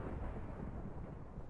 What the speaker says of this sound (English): the thunderstorm just killed a bunch of fish there